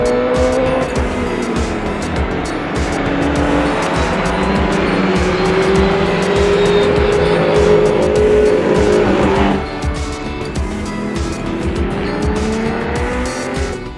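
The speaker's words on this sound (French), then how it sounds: "Cette Porsche Carrera 6" A Porsche Carrera 6 race car drives past at the Coupes de Printemps 2012 historic race meeting, its loud engine roaring close by with rising and falling pitch as it shifts and passes. No one speaks.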